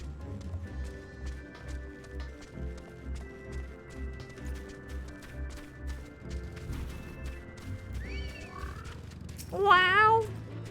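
In Final Fantasy XIV a small in-game cat gives a short, clear meow near the end, over looping game music with a thumping beat and scattered effect sounds.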